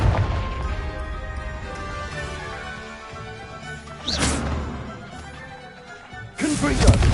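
Confringo blasting spells cast in the Hogwarts Legacy video game, heard as two sharp bursts with crackling tails midway and near the end, over steady game music and ambience.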